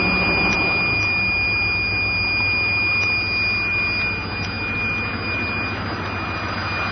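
A Chevrolet Suburban converted to run on vegetable oil idles just after a cold start, with a loud, steady broadband drone and a constant thin whine above it.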